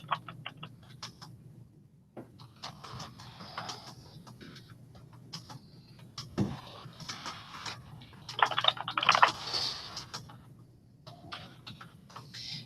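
Typing on a computer keyboard, quiet scattered keystroke clicks in irregular bursts over a low steady hum, getting busier and a little louder toward the end.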